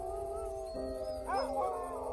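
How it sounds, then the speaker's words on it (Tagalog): A dog howls in a drawn-out, wavering cry that rises and bends near the end over a low background hum, fairly close and with no talking. "nanggulat kami nang marinig naming umaalulong ang aso nila."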